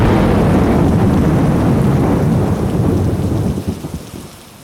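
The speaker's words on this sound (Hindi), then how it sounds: "आसमान में काले बादल गरज रहे थे, बिजली चमक रही थी" A loud rumble of thunder rolls over steady heavy rain, then slowly fades out while the rain hiss continues.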